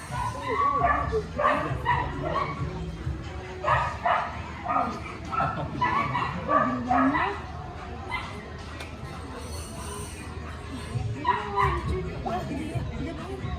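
Small dogs kept in tiny cages at a shop in Bangkok yap, bark and whimper over and over in close, busy bursts, with human voices mixed in throughout.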